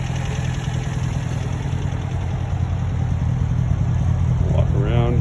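A 1951 MG TD engine idles steadily up close, a continuous low rumbling drone that grows slightly louder over the stretch, with a voice speaking briefly near the end.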